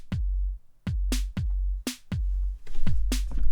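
A Korg EMX-1 groovebox plays a dry programmed beat, booming kick hits alternating with sharp snare cracks in a steady electronic pattern, loud and close with nothing else underneath.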